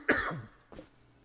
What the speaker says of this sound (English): I can't seem to shake that cough